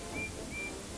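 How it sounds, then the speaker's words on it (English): A toy train engine whistle sounds twice, two short steady high-pitched toots spaced apart over a soft background hum, fairly faint and with no talking. "he heard another engine's whistle."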